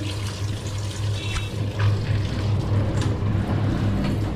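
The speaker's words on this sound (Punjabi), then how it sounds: "ਆਹ ਲਿਆਉਂਦੇ ਹਾਂ ਸ਼ਿਮਲਾ ਮਿਰਚ ਅਤੇ ਇਹਨਾਂ ਨੂੰ ਧੋ ਲਈਏ ਆਪਾਂ" Bell peppers, or capsicum, being washed under a running kitchen tap give a steady rush of flowing water with some splashing, fairly loud and close, with no talking.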